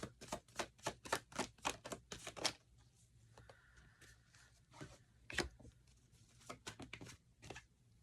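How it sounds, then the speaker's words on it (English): Tarot cards being drawn and shuffled from a deck, a quick run of crisp riffling flicks at first, then quieter sporadic slides and taps, close and soft with no talk. "let's get like 2 more cards from the tarot deck"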